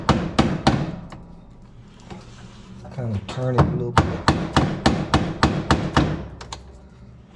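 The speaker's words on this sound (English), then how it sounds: "That's what that hammer's for." A hammer taps repeatedly on the nut of a GE washing machine during a grinding-noise repair, giving sharp, close metallic knocks in a loose rhythm while someone talks briefly.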